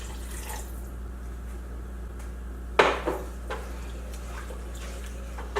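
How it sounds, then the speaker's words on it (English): Water poured a little at a time into a pan of vegan chickpea curry, with one sharp splash and sizzle midway followed by smaller clinks and drips over a steady low hum. "I'm going to add some water."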